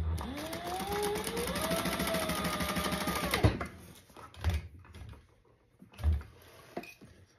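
Sewing machine stitching across the bottom of a card slot, a short close motor run with rising whine and rapid stitching for about three seconds, followed by quiet handling thumps.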